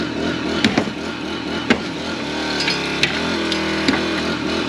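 Hydraulic Jaws of Life rescue tool working on a car door hinge: a steady mechanical hum with several sharp metallic cracks and pops spaced through it, loud and close.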